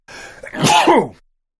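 A single sharp human sneeze lands close to the microphone during a podcast recording, a brief quiet inhale followed by a loud explosive burst, then silence.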